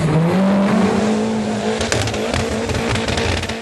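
A 4x4 off-road vehicle crawls over a tire pit at a national 4x4 challenge event, its engine droning loudly and close with a steady low hum and rising strain, joined by scattered knocks and scrapes.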